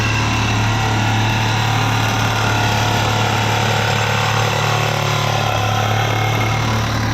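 A power tool drones steadily and loudly while cutting a hole in the hood of an AWD turbo Talon, a continuous close-up high whine with a strong low hum and no talking.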